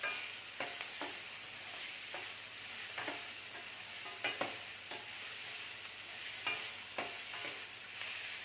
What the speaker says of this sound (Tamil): ஹை ஃப்ளேமில் வைக்காதீங்க, மீடியமில் வச்சுட்டு மெதுவாக வதக்கு